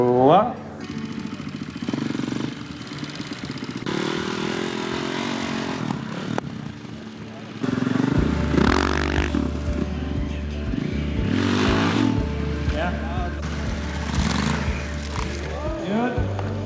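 Motorcycle engine on an Outduro Scout dirt bike during wheelie practice in Latvia, running steadily with changing pitch while an instructor and riders talk over it throughout.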